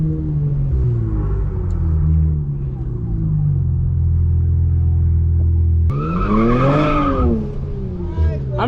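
A JB4-tuned Infiniti Q50 drifts, its engine droning steadily before revving hard and rising in pitch as the tires squeal and scrub, heard close from inside the car.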